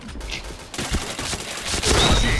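Rapid bursts of video-game gunfire crackle through a chain of headshot kills, loud and close, with dense overlapping shots and rising intensity toward the end, plus faint background chatter.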